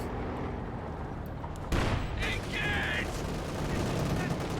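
Explosion and gunfire from a Company of Heroes 2 battle between Soviet and OKW forces: continuous rumbling combat noise with a sharp loud blast partway through, followed by crackling bursts, while a voice talks intermittently.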